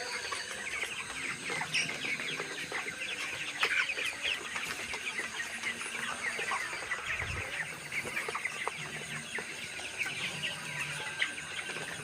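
Broiler chickens cluck continuously in a busy poultry farm coop, many birds overlapping at close range with constant soft chatter and occasional louder calls.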